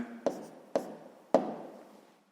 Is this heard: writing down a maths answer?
yes